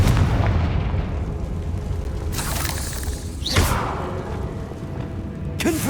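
Confringo blasting spell explosions in Hogwarts Legacy, a loud rumbling blast with crackling debris and a couple of sharp bursts, a whistling sweep in the middle, no talking.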